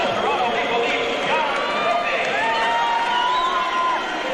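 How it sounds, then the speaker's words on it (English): Arena crowd at an AWA televised wrestling event reacting with mixed cheers and jeers as coach John Brophy is introduced; a sustained, dense roar of voices with whistles and shouts, fairly loud throughout. "John Brophy being introduced to the crowd here, a mixed reaction"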